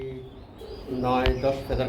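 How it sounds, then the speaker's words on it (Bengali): A pair of white pigeons kept for sale give soft, low coos, close by and mixed with voices talking nearby. "দেখতে পাচ্ছেন এখানে রয়েছে এক জোড়া হোয়াইট কালারের মধ্যে খুবই সুন্দর বুতাবেস্ট কবুতর"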